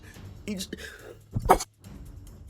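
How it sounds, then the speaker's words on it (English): A single throat-clearing cough bursts out close and fairly loud between stretches of quiet talk, during commentary over a fantasy action roguelite game. "I had a cough"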